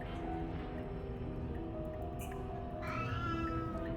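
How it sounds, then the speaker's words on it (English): A cat meows in the video game Slay the Princess, with a drawn-out, wavering cry rising late in the clip over a steady bed of background music and ambience. "This cat. Yeah, she's so cute."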